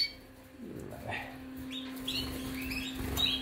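Small cage birds, among them breeding females, let out scattered high chirps and short tweets at moderate volume over a constant low hum, with no talking.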